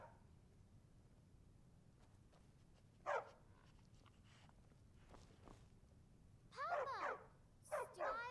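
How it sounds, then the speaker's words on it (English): Dog barking in the modded video game Skyrim, a few short yelping barks, one on its own and then a cluster near the end, with quiet footsteps and low background noise between them. "Stupid dog."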